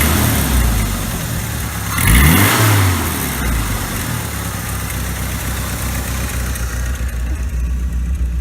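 A Mustang II with a modified exhaust idles steadily up close. One brief rev swells and falls back to a low rumbling idle that carries on alone.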